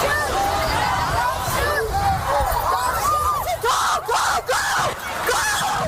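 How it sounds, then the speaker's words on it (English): Many people scream and shout at once as a protest crowd runs for cover at night, a loud chaotic mass of overlapping frightened voices rising and falling, with sharp gasps and yells throughout. "Chants turned to screams as the crowd ran for cover."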